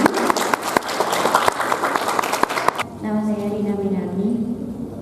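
An audience at a mask-making workshop claps in a burst of applause for nearly three seconds, then it stops and a voice begins talking over a faint background.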